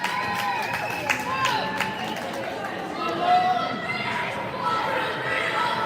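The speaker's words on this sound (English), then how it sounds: "The boys do their cheer." Youth hockey players gather on the ice at an Alaska state game for their team cheer, a burst of overlapping shouts and chatter echoing through the rink, with crowd noise and a brief louder swell partway through.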